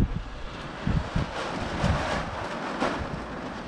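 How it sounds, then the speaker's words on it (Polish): Strong outdoor wind buffets the microphone beside a goose shelter under construction, producing loud, rumbling gusts that surge and ease in uneven bursts, with no talking. "bo strasznie wieje,"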